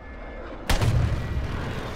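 Airstrike in the video game Warzone 3: after a quiet stretch a sudden loud blast hits, followed by a rumbling roll of debris and echo that slowly fades.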